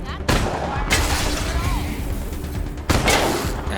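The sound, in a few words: gunfire trick shot in video game Wasteland 3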